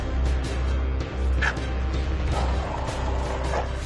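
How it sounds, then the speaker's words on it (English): Dogs bark at a troop of langur monkeys near a bridge by temple gardens in India, with a few sharp, close barks and yips breaking through a loud, rumbling outdoor background. "bravely confronts the dogs."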